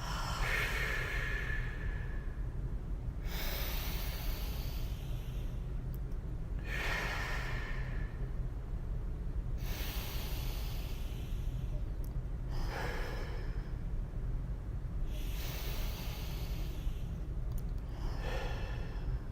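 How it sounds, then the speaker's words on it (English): Slow, deep breathing in through the nose and out through the mouth during a calming breathwork exercise, several long airy breaths spaced a few seconds apart, close and steady with no talking. "take a deep breath in your nose. And you're just going to exhale through your mouth."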